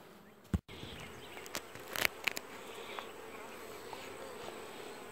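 Honey bees buzz steadily around open hives during a June dearth, a continuous droning swarm heard close with a few sharp knocks and clicks from hive handling, no voices.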